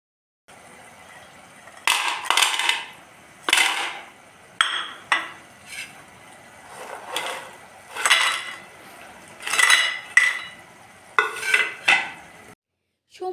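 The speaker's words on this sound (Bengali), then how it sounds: "পিঠেগুলো কতখানি মুচমুচে আর খাস্তা হয়েছে সেটা আপনারা শুনে নিন" Crispy fried pakon pitha crackles and crunches in a series of close, sharp bursts separated by brief pauses, with no voices.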